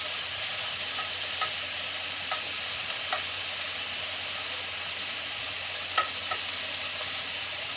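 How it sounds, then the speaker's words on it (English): Chicken and mushrooms fry steadily in a pan, a constant hiss of sizzling with occasional scrape and clack of a utensil stirring, close and fairly loud, no talking. "Or frying off chicken."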